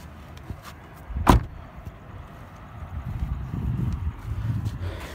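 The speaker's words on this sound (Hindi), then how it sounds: "इंजन इस तरह खुलता है" A single sharp clunk as the bonnet of a Hyundai Venue S+ car is released and opened, followed by quieter handling rustles and low background noise.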